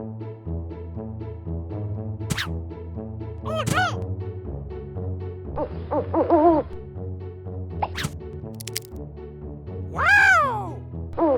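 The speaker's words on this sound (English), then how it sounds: "Owl! Owl! Owl!" A cartoon owl from a children's animal-names song gives a few short, repeated hoots that stand out over steady, upbeat background music.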